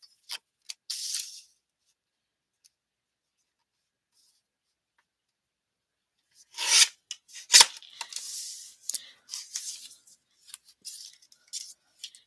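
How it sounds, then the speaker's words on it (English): Paper being cut for a handmade mini floral book, with a short burst of snips early on, a long pause, then a busier run of crisp cuts and rustling paper handling, close and fairly quiet. "So we're just gonna cut this down."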